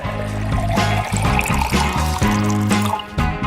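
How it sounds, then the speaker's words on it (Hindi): Blended watermelon juice with pulp pours into a bottle in a kitchen, a steady gurgling trickle with glugging bubbles and the rising pitch of the filling container, close up. "अब हमें तरबूज का जूस एक बोतल में डालना है।"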